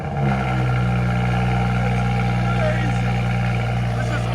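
A tuned 2017 BMW 540i with a 3.0L inline-six, downpipes and a straight pipe rumbles steadily with a loud, deep, even exhaust drone held close to the tailpipe.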